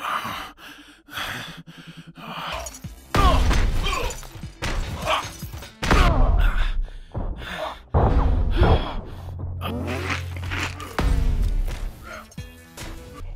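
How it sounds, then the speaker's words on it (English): Loud game sound effects with crashes and bursts overlap with ragged, heavy breaths and gasps, dense and close throughout. "put in samples of heavy breathing for when you're about to meet your maker"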